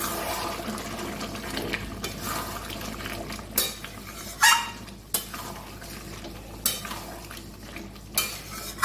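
Mutton and potato curry in a thin broth is stirred in a pot, with repeated wet sloshing swishes and clinks of a utensil against metal at irregular intervals over a quiet steady background.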